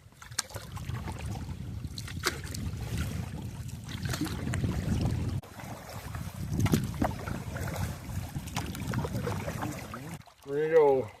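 A canoe heads downriver toward rapids on a summer fishing trip, with rumbling wind buffeting the microphone and water sloshing against the hull throughout, fairly close and steady, ending with a brief burst of noise.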